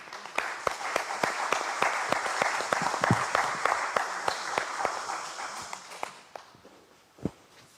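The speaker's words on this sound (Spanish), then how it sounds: "Vamos a recibir con un cálido aplauso al ingeniero Carlos Somocurcio." A seated audience gives a warm welcome to an engineer stepping up to speak at an evening event, a full round of applause with a few sharp, distinct claps standing out, tapering off into quiet with one last clap.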